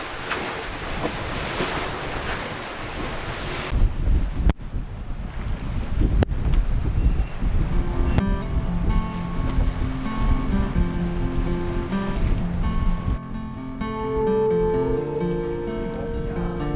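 Strong wind roars across the microphone while waves rush and slap against a sailboat crossing the Gulf of Almería. The noise is loud and continuous, and soft music rises in the later part.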